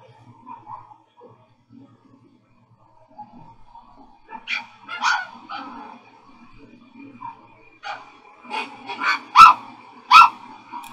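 Dogs at home let out scattered barks and yips, quiet whimpers at first and then louder sharp barks in quick clusters toward the end, close by.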